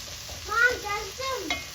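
Tomato paste frying and being stirred in a pan while linguine sauce is cooked, giving a soft close sizzle with faint scraping strokes of the stir throughout.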